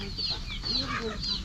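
A rooster clucks in repeated short calls close by, with faint background voices and outdoor ambience around it.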